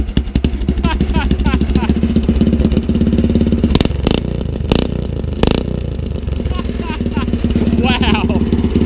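A rat rod wagon's engine fires up and runs with a loud, rough, rapid exhaust chatter close by, steady throughout apart from a few sharp bursts midway, with voices talking over it.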